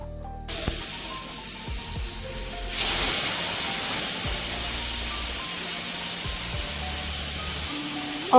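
A pressure cooker of chickpeas vents steam in a loud, steady hiss that begins abruptly, then jumps in strength partway through and keeps rushing continuously with faint rattling beneath.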